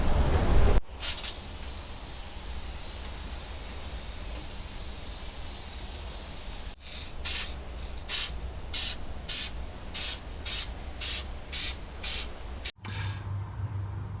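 Black paint is sprayed from an aerosol can onto Lexus GS430 rear brake calipers, a close hissing spray in long continuous bursts, then a run of short rhythmic puffs, about ten of them, evenly spaced.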